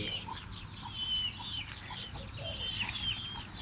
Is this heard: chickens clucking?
yes